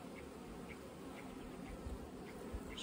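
Honey bees buzz in an open hive box full of brood frames, a steady, dense droning swarm sound that holds evenly throughout with no one talking.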